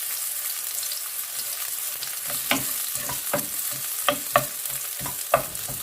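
Onions sauté in a pan for ginisang green beans with pork belly, a soft, steady sizzle punctuated by several sharp spatula taps and scrapes, close by and without speech.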